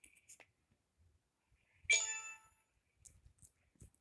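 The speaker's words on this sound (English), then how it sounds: "All right, bell chime." A bell chime notification tone from a Meta Quest 3 headset, a single bright ringing strike that decays over about half a second, heard alone amid quiet with faint clicks around it.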